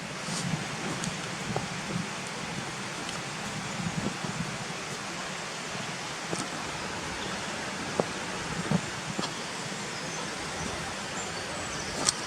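River water running beside a track near Gunnerside village, a steady, even rush of flowing water at moderate distance, continuous and unbroken with faint scattered clicks and rustles.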